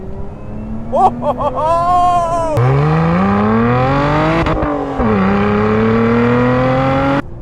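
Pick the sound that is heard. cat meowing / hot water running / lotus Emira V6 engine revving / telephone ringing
lotus Emira V6 engine revving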